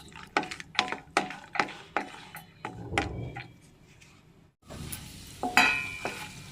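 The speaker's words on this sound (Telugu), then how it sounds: "మనం కట్ చేసి పెట్టుకున్న డ్రై ఫ్రూట్స్ని కూడా వేసుకొని ఎర్ర రంగు వచ్చేంత వరకు వేయించుకోవాలి" Chopped dry fruits fry in a pan for rava kesari, with a series of rhythmic stirring scrapes over a soft sizzle, then a brief pause and a louder clatter near the end.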